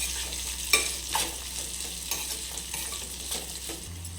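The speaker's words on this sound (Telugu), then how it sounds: "కాకరకాయ ఫ్రై కూడా చేసుకుంటున్నాండి" Bitter gourd fry stirred in a pan, a steady oily sizzle broken by several sharp scrapes of the spatula, close and fairly quiet, with no talk.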